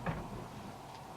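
A room door swings open at home, giving one brief, soft creak or knock right at the start, then only quiet room tone.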